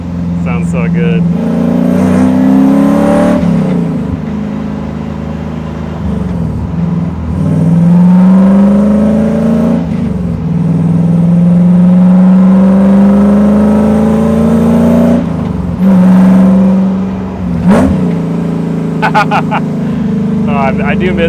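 A supercharged V8 truck engine drones close and loud, rising and falling in pitch through repeated revs with short pauses between pulls.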